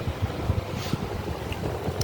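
Wind buffets the microphone in a constant low, rough rumble with gusty bursts, loud and close, and no one speaking, during a morning walk in Kyiv, Ukraine.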